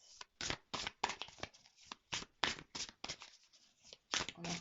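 Tarot cards are shuffled by hand in a quiet room: soft, papery riffles and slides repeat in short, uneven bursts, close to the microphone, with no other sound.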